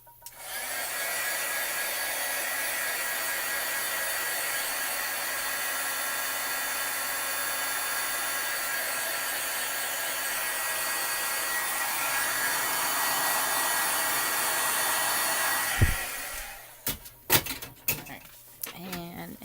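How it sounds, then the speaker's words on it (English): A heat gun blows steadily for about fifteen seconds over a shimmery, sparkly card background, a loud even hiss that cuts off before some clattering handling noises. "I'm going to take the heat gun to it real quick."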